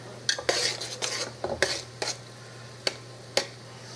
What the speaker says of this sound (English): stir it around so it gets mixed in with everything